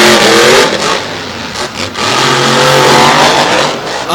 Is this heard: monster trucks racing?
yes